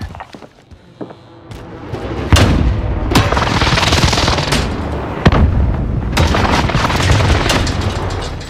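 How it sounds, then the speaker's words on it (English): A precision airstrike in the video game Call of Duty: Warzone on Rebirth Island, heard as a sharp boom followed by loud, sustained rumbling blasts and repeated heavy impacts that fill the scene. "Enemy precision airstrike."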